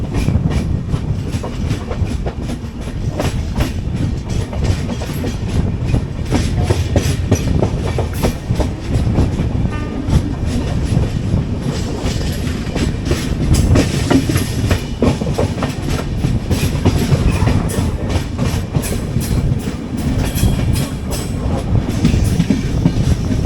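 The Kochuveli–Mumbai LTT Superfast Express pulls into Kundapura station, heard from on board as a steady, loud rumble of rolling coaches with rhythmic clickety-clack over rail joints and continuous low wheel noise.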